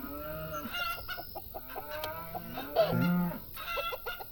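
Chickens cluck repeatedly in farm simulation game Farm Manager 2018, with short choppy calls and a low moo-like tone, under quiet background game ambience.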